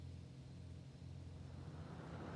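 Lamborghini Diablo V12 engine idling at low revs in a racing video game, a steady deep rumble holding close and even throughout with no talk.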